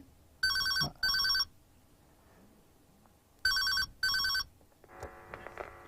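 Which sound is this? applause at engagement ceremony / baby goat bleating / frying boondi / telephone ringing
telephone ringing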